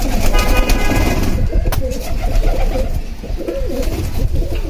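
Old-breed pigeons cooing close by in deep, repeated throaty calls, with a busy mix of other bird chatter and background noise.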